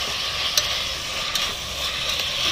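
Ingredients sautéing with salt in a pan on a terrace cooking setup give a steady, moderately loud hiss, with a couple of light stirring clicks and no voices.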